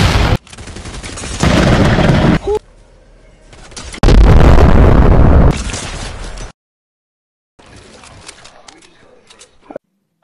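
Loud bursts of gunfire come from a sky base in Fortnite, arriving in harsh, blocky, distorted stretches that cut in and out with short silences between them.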